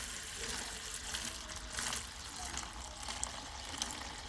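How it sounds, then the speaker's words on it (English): Water is poured into a homemade self-wicking gardening container, a steady splashing trickle with faint gurgles running throughout, close by and moderate in level. "You put your water in first"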